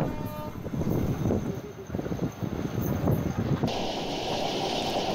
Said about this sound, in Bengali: ট্রেনটির ট্র্যাক সাউন্ড শুনেই বোঝা যাচ্ছে যে ট্রেনটি মোটামুটি 90 থেকে 90+ স্পিডে পার হয়ে যাচ্ছে